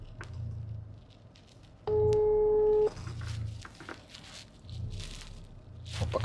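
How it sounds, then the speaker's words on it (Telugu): A phone call to a cargo company rings out once as a steady electronic tone lasting about a second, with soft rustling and handling noise around it. "స్వాగత్ కార్గో వాళ్ళకి ఫోన్ చేస్తున్నా"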